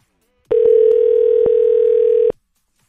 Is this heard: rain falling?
no